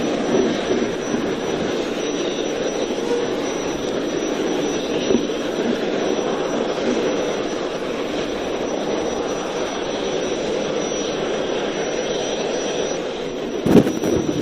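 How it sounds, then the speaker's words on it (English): A steady, powerful roar of a SpaceX Falcon 9 second-stage engine igniting, rumbling continuously, with a brief crackling burst near the end. "That is the ignition of the second stage engine."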